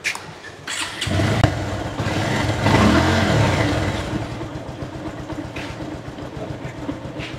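A Pulsar double-disc motorcycle engine catches after a second and settles into a steady, close running rumble with slight swells in revs, heard alone.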